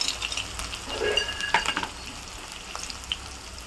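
Sliced onions and peanuts are stirred in hot oil with cumin seeds for a Rayalaseema-style uggani. A bright, moderate sizzle is broken by a few louder scraping stirs near the middle, then settles to a quieter hiss.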